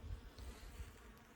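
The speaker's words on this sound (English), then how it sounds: "My busy little bees that are getting hammered by the wasps" Honey bees buzz steadily at a backyard hive entrance that is being raided by wasps, a soft continuous drone under outdoor wind and low rumble with no speech.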